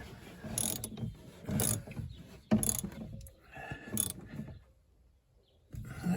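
A wrench on an extension tightens the positive battery terminal of a BMW E46 320Ci coupe, giving several short close ratcheting clicks in bursts with pauses between.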